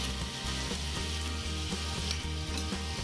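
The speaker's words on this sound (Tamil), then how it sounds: "கத்திரிக்காய் பாருங்கள் நல்லா வதங்கிடுச்சு" Brinjal sautéing in oil for a village-style herbal curry, a steady close sizzle and crackle with occasional stirring scrapes, continuous and fairly loud.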